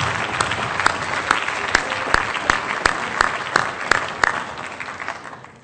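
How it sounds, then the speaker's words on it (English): Applause from an audience at a retailer awards ceremony in St Albans, a steady patter of many hands clapping with sharper individual claps standing out, fading toward the end. "So a big round of applause, please,"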